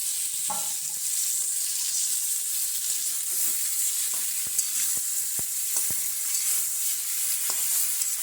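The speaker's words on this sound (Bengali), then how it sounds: "দিয়ে ভালোভাবে নাড়তে থাকবো" Chicken frying in a kadai sizzles steadily while a spatula scrapes and stirs it in intermittent clacks, close and continuous with no talking.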